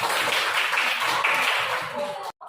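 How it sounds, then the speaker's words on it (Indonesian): A classroom of students applauds for a classmate, brisk dense clapping at close range that stops abruptly near the end, with some voices underneath. "Tepuk tangan untuk Alif."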